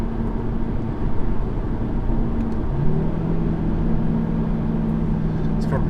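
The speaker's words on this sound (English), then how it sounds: "It's a car that wants to rev, it really does." A 2019 Audi RS3 engine fitted with an OPF revs steadily from inside the cabin while driving, a constant low drone with a rising tone partway through, under the road noise.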